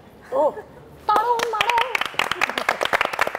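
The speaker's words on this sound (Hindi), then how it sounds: "तुमने ताली भी खुद बजाई" A few people clap by hand in short uneven bursts during a casual home Eid gathering, with a voice heard briefly before the clapping begins.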